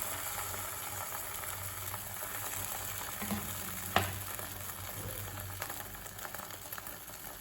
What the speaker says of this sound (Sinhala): තෙල් ටික හොඳින් රත් වුණාට පස්සේ බිත්තර මිශ්‍රණය මේ විදිහට පෑන් එකට දාගන්නවා